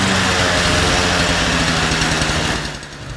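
Old 1973 Motobécane 102 moped engine, unused for some 30 years, running steadily after starting on its own, a loud buzzing two-stroke idle with rapid rhythmic firing that eases slightly at the end.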